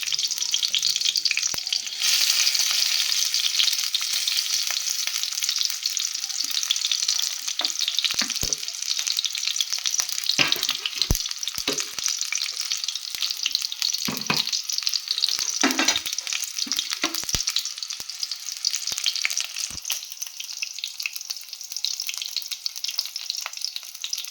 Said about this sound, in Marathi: दोन चमचे तूप टाकून घेऊ, नंतर आपण याच्यात कांदा टाकणार आहोत।